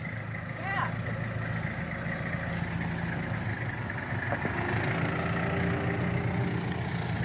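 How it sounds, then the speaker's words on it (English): A farm tractor engine runs steadily at idle close by, a continuous low rumble with a faint mid-range whine, while people talk over it. "Okay, there's my tractor."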